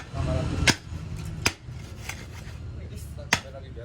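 Sharp knocks from striking a paving block mould to compact the mix, three distinct hits spaced irregularly over a low background rumble, fairly close.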